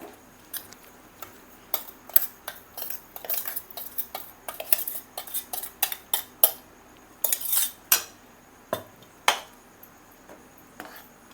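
A metal utensil scrapes and stirs roasted, freshly powdered spices into tamarind pulikaichal paste in a pan, giving a string of irregular close clinks and scrapes against the metal with no voices.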